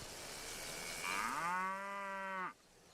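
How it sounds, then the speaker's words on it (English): A single drawn-out cow moo from a video game, Railway Empire 2, loud and close, with a rising start and steady harmonic tone that cuts off abruptly after about a second and a half. "That goes moo instead of ba."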